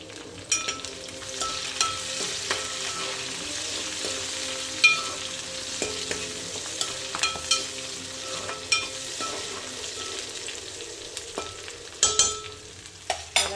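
Onions and curry leaves fry in a pan with a continuous moderate sizzle, joined by frequent scraping and tapping of a spoon as they are stirred, nearby and steady with no voices.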